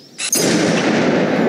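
A Halo Reach weapon fires in Garry's Mod sandbox gameplay: a brief sharp crack followed by a loud, sustained rumbling blast that fills the rest of the moment.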